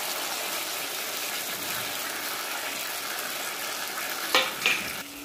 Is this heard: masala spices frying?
yes